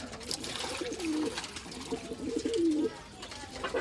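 Pet pigeons in a loft, including fantail breeds, coo softly in a few repeated, rolling phrases close by, amid light background rustling and handling noise.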